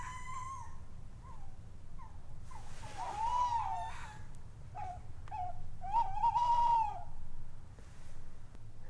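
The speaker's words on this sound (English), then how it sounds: "We are surrounded by tawny owls." Tawny owls call in a derelict coal mine, giving several wavering, tremulous hoots at moderate distance, some short and some drawn out, over a low steady background rumble.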